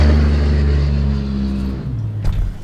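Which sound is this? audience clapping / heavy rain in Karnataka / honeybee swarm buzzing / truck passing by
truck passing by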